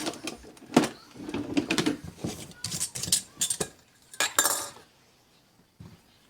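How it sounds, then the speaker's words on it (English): A spoon stirs thick fermented honey garlic in a jar, making bursts of close clinks and scrapes against glass that come in uneven clusters, then fade to near silence. "I will go ahead and actually stir it just a little"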